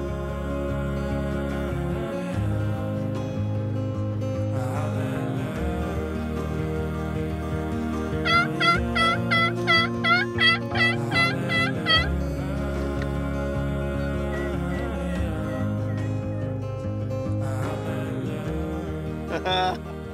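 A hunter imitates a turkey gobble with a mouth call during a duck hunting outing: a quick, warbling burst of rattling notes rising over steady background music partway through.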